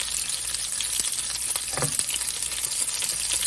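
Tocino slices sizzle and caramelize in a hot pan, a steady close crackle of frying running throughout with a few faint clinks.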